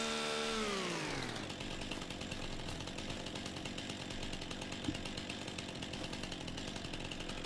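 A chainsaw in Farming Simulator 25 cuts into a tree. It revs up over the first second, then settles into a steady, loud, buzzing drone that runs unbroken with no talk.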